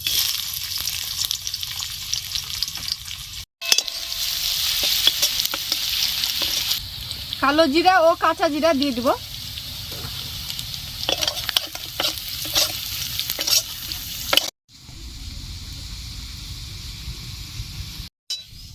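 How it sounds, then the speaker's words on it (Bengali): Sliced onion and three green chilies fry in oil in a kadai wok, a steady close sizzle with stirring scrapes and a brief spoken line partway through. "পেঁয়াজটা ভাজা হয়ে গেছে পেঁয়াজ লঙ্কা ভাজা হয়েছে"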